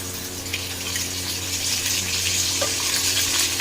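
Tomatoes go into a pan of golden fried onions for Tamil anchovy fish curry, raising a steady close sizzle and hiss that swells slightly partway through, with no talking.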